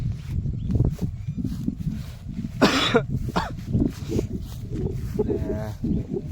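A man coughs in a harsh burst near the middle, with a few throat-clearing sounds around it against a busy background of low rumble and scattered movement, indoors early in the morning.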